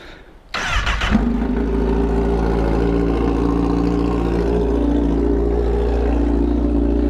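A Honda CBR 1000RR motorcycle fires up with a short starter crank, then settles into a steady, loud, close idle that holds for several seconds with no talk.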